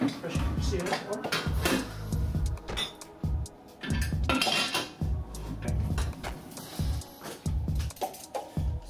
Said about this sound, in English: We can put the pressure sealer on